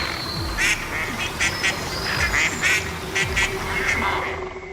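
Quacking from a duckling near a heron at a pond's edge, several short calls repeating at a steady pace over low background noise, fairly close and clear.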